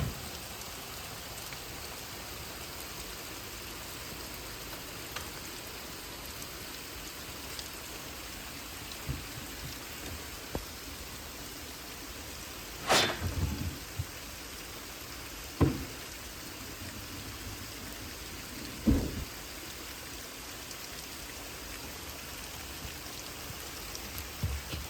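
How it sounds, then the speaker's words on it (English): Rain falls steadily outdoors, a soft even patter holding throughout, with a few louder close knocks and clunks standing out now and then. "I think it's raining."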